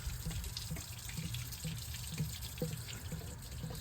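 Antifreeze runs from the disconnected heater core hoses of a 1994 Ford Ranger 3.0, a steady close trickle and splash of liquid draining continuously, with no talking.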